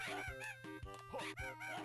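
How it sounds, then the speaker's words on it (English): Crows calling in the Banjo-Kazooie game on Game Boy Advance, a run of about six repeated synthetic, cawing crow-like cries in quick rhythmic succession, loud and close, with no talk. "Now these crows are gonna make me laugh every time they crow."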